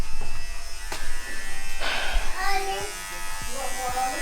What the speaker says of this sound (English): Literally, we're shaving off his entire hair.